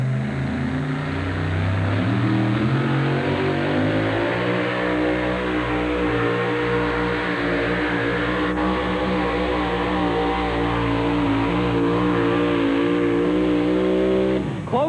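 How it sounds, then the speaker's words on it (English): The Plano Toolbox's Midnight Express pulling truck at a 1989 truck-pulling event, its engine roaring loud and sustained with rising revs, a dense droning harmonic howl throughout. "The Plano Toolbox's Midnight Express is hooked. Let's watch him try and beat Walsh's pull."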